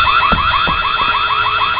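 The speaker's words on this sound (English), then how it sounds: "Fire alarm is ringing." School fire alarm in the horror video game White Day, a loud electronic warble repeating in quick even cycles, with a few low thumps underneath.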